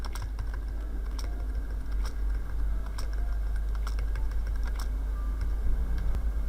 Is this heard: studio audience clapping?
no